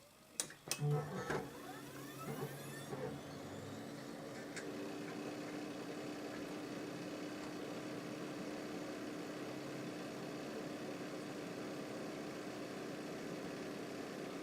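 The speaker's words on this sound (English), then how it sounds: "we can see the chassis fan there, and if I turn the machine on" A computer chassis fan spins up after the machine is switched on with its side panel off, giving a few clicks at first and then a steady, moderate whirring hum that runs on evenly.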